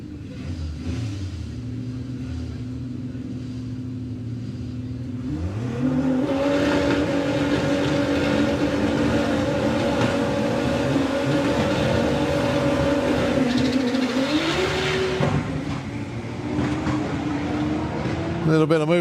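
VW drag racing cars launching at Santa Pod, including the Team Militia VR6 altered: a loud idling rumble rises into a roaring, revving launch that holds steady, then shifts pitch and fades, with an announcer talking over it.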